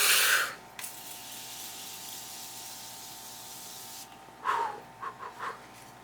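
One Size setting spray misted onto a face, starting with a short bright burst, then a long quiet hiss of room tone and a few quick spritzes close by near the end.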